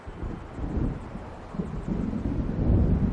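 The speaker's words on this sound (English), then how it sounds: "It seems there's a storm coming." Distant thunder from an approaching storm in the video game Alan Wake Remastered, a low rolling rumble that swells gradually and grows louder toward the end, mixed with windy noise.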